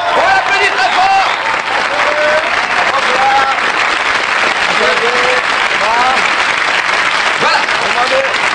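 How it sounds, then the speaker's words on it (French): A TV game-show studio audience applauds loudly and steadily, a dense wash of clapping with cheers and whoops on top, continuing without a break for the whole stretch. "on l'applaudit très fort"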